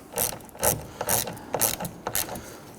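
A hand ratchet tightens the side mirror mounting bolts on a 2011-2015 Kia Sorento, giving about six quick bursts of close, crisp clicking in an even rhythm, with no talking.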